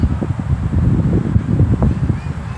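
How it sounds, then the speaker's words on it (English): Gusty wind buffets the microphone in low, uneven rumbles, steady throughout with no clear speech. "It's really windy right now."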